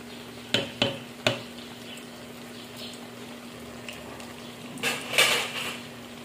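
Mongolian barbecue being stirred in a pan: a few metallic scrapes and clinks of a utensil against the pan over a steady sizzling hiss, followed by a louder burst of scraping and frying near the end.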